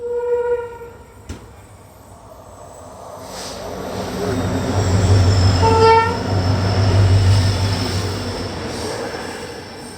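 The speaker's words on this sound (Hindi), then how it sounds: "Crossing Vasco the gamma Shalimar Amravati express." The Vasco da Gama–Shalimar Amravati Express passes on an adjacent track, heard from aboard the Poorna Express: a horn blast, then a swelling low rumble of wagons rolling by close, fading toward the end.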